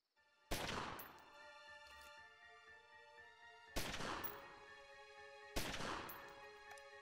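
Three separate gunshots in the gangster game Omerta: City of Gangsters, each a sharp, loud crack followed by a long ringing decay, spaced a few seconds apart over a quiet background.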